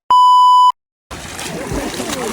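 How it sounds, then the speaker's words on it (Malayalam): A sharp electronic beep sounds first, then after a short silence a group of people jump into the water at Mooneys Bay Beach in Canada, making a loud, sustained wash of splashing and churning water. "എല്ലാരും കൂടെ വെള്ളത്തിൽ ചാടാനായിട്ട് റെഡി ആയിരിക്കുകയാണ്"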